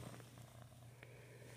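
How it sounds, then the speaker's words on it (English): A cat purring steadily and close by, a low continuous rumble that runs unbroken from start to end in a quiet room, with no talking. "He's purring right now."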